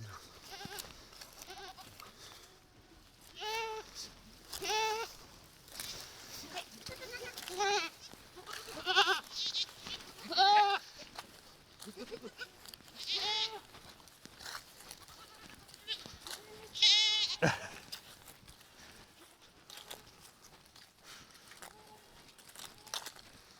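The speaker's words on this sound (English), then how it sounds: "Never seen so many goats." A large herd of goats bleats repeatedly in an outdoor parade, many overlapping cries near and farther off in irregular bursts, with rustling and a bit of talk in between.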